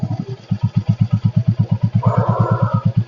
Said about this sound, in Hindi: बढ़िया आवाज़ है गाड़ी की, बढ़िया थंप है इसका।